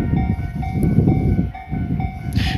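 A Tobu 30000 series train rumbles loudly past the Hibarigaya level crossing by Kita-Ikebukuro station, a heavy low roar of wheels and cars with rhythmic clacks throughout, a crossing bell chiming steadily, and a brief hiss near the end.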